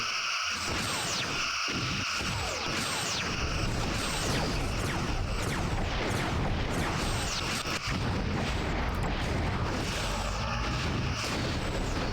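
Weapons fire and explosions from the space combat game Star Trek: Bridge Commander, with torpedoes striking a ship; a dense, continuous barrage of booms and crashes fills the whole stretch with no pauses.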